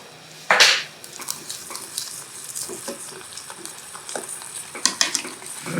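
A spoon scrapes and stirs a spicy tamarind-based sauce in a frying pan, soft sizzling underneath, with a sharp clatter at the start and scattered metallic scrapes, close and quiet.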